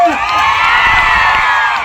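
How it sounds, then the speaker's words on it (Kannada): A stage-show audience erupts in loud, dense cheering, whoops and shouting with applause mixed in, sustained across the whole moment. "ಜೋರಾದ ಚಪ್ಪಾಳೆ"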